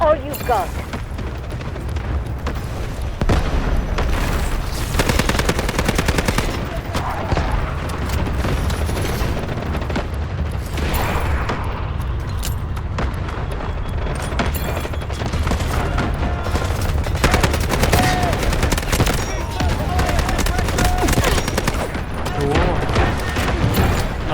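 SMG 45 submachine gun fire in the Delta Force video game, dense rapid bursts and booming reports layered over continuous loud battle noise, with a voice speaking over it.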